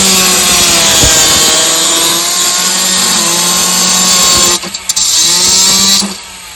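Power saw cutting a granite slab for a carrom board, a loud, steady high-pitched grinding whine that holds for several seconds, briefly drops out, then stops.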